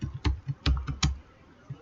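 Typing on a computer keyboard, with a handful of crisp, close key taps in an uneven burst followed by a short pause and one last tap, quiet and with no talking.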